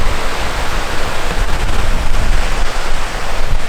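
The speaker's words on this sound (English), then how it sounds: "Have to grab a shot of that gorgeous waterfall there." A waterfall in Iceland's Westfjords roars as steady, dense broadband rushing water, loud and close and unbroken, with no voices.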